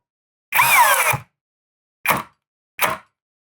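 A cordless drill in drilling mode, second gear, whirs in three bursts: one longer spin followed by two short pulses, close and fairly loud, with silence in between.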